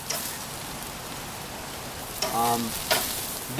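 Meat browning in fat on a grill gives a brief, steady sizzle, with a couple of louder crackles and a short scraping burst near the end.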